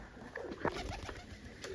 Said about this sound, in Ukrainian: Голуби всі на дворі.